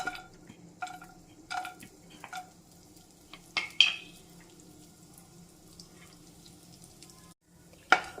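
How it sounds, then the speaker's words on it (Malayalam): Cut coconut pieces roasting in a pan, heard as intermittent scrapes and clattering stirs with a faint sizzle between them, separated by quiet gaps. "ഇനി നമുക്ക് റോസ്റ്റ് ചെയ്തെടുക്കാനുള്ളത് കട്ട് ചെയ്ത് വെച്ചിരിക്കുന്ന തേങ്ങാക്കൊത്ത്"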